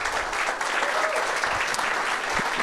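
Applause from an audience at a soccer press conference announcing a minor league team for Statesboro, a dense, steady patter of many hands clapping close by for a few seconds.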